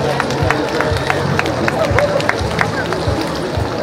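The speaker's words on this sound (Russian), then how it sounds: "Продолжаем аплодисментами, дорогие друзья." Crowd clapping at an outdoor Sabantuy folk festival in Moscow, steady rhythmic claps over a dense, noisy background, with a voice speaking through it.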